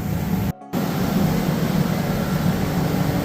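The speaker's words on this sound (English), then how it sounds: "the jet engine's on over there" A steady, loud roar of a running jet engine fills the scene, broken by a brief dropout before the droning resumes unchanged.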